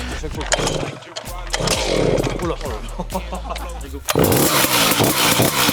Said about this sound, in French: Qui a démarré un Banshee?